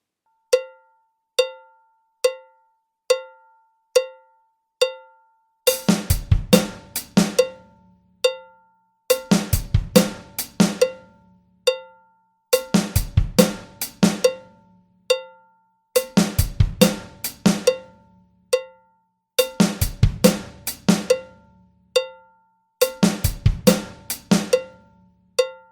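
A drum kit plays a classic break beat pattern. Steady cowbell-like clicks count time first, then repeated bursts of kick, snare and cymbal hits come in regular bar-length phrases, each separated by a pause, with no talking.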